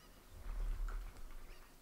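A cucco chicken in the video game Ocarina of Time gives a short honking, goose-like cluck, loud and close, alone with no talk over it.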